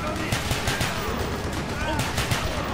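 Gunfire in the Call of Duty Black Ops campaign during a prison escape, heavy rapid bursts of automatic shots close by, continuous and loud throughout, with a voice speaking over it.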